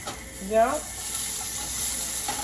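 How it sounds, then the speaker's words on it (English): Vegetables stirred in a sizzling frying pan, a steady soft frying hiss with a brief scraping swirl of stirring near the start, close and moderate in level. "just gonna stir those around in the pan"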